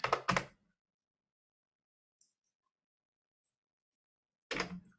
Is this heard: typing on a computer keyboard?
yes